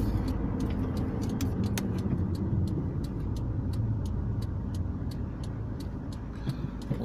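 Car driving along a town road in Sillamäe, Estonia, heard from inside as a steady low engine and road rumble with a faint regular ticking, likely a turn signal, throughout.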